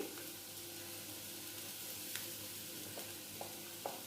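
Steady sizzle of onions frying in a pan for an omelette, low and continuous with a few faint stirring clicks, no talk.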